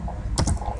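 A few keystrokes on a computer keyboard while writing C# code, close and fairly quiet, with a short cluster of clicks midway and another at the end.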